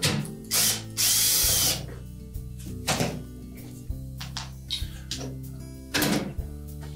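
A power driver backs out the retaining screw on the internal-bias thermostat of a Whirlpool dryer, giving several short, close whirring bursts with clunks and clicks of the tool and metal panel between them.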